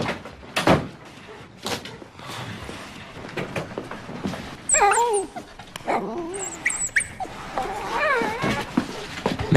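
A puppy named Trooper whimpers and whines in high, wavering cries, close by and repeated, under scattered background noise and a brief door-like thump early on.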